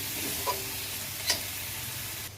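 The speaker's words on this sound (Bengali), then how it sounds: "এবার দিয়ে দেবো ভেজে রাখা মাছগুলো মশলার সাথে ভালো করে কষিয়ে নেব" Fried hilsa fish pieces cooking in oily spice paste with a steady, dense sizzle, broken by two faint scrapes of a spatula, close and continuous, without talk.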